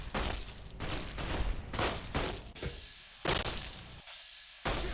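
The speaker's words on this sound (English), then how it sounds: "They keep shooting his corpse." Repeated bursts of gunfire in the Fallout: Tale of Two Wastelands mod during the Battle of Hoover Dam, loud cracking volleys separated by short pauses, with no talk over them.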